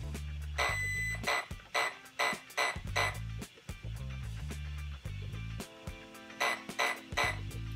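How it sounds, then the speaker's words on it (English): A string of short electronic beeps from a Hobbywing SC8 120A brushless speed controller being programmed, in small groups, high and tonal, repeating over a steady low hum with pauses between. "And then you want to hear for the beeping sound."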